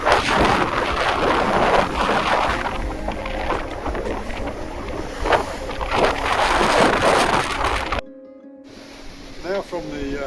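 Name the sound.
strong wind on a sailing yacht at sea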